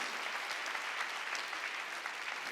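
Sustained applause from a church congregation during a Sunday worship sermon, many hands clapping evenly and somewhat distant, filling the space without pause.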